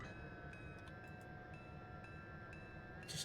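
Train rolling down the line in the TruRail Simulations game, a steady low rumble with faint rhythmic clicks of wheels over rail joints, quiet and continuous, with a short sharper burst at the end.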